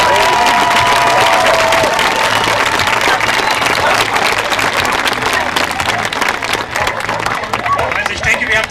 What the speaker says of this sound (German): ihr könntet lauter klatschen